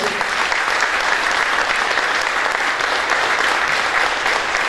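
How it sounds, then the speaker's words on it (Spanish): An audience at a huapango arribeño festival talk applauds the musicians with loud, dense, steady clapping that fills the whole stretch without pause or speech. "Un aplauso fuerte para ellos."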